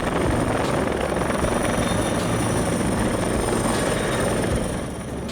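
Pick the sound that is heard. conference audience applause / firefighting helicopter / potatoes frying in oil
firefighting helicopter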